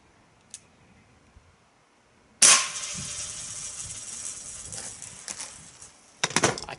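Shot from a Daisy 11A1 or Crosman P15B pistol striking a target, a sharp loud crack followed by ringing hiss, then a second burst of quick clicks near the end, close and without talk.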